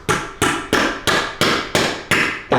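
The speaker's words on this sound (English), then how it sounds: "and hammering them into that hole," Hammer blows drive nails into a 3/16-inch hole drilled in the floor to wedge a 2x4 plate, eight sharp, evenly spaced strikes ringing loudly and close, each decaying before the next, with no talking.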